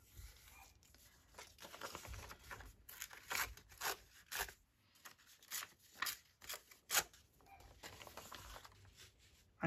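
Antique book paper being ripped off a journal page, a run of short crisp tearing strips and rustles, close and fairly quiet with brief pauses between pulls.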